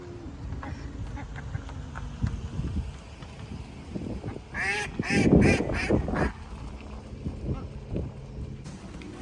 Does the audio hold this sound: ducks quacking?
yes